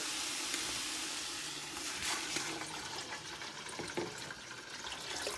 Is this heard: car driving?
no